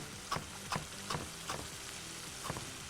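Lamb pieces for a dumba karahi frying in a pan give a soft, faint steady sizzle, broken by light, regular stirring scrapes about every half second.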